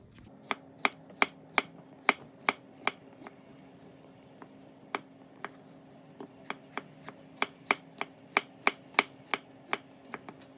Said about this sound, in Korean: 양송이 버섯의 기둥은 버리고 갓 부분만 얇고 넓게 썰어줍니다.